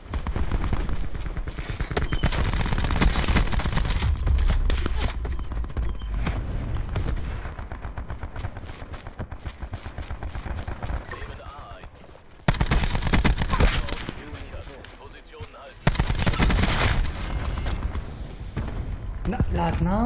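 Gunfire blasting through a wooden floor in Call of Duty Black Ops 4: dense, loud, sustained bursts and rapid shots that run almost without a break, with heavier booming hits near the end.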